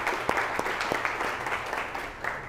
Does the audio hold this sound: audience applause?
yes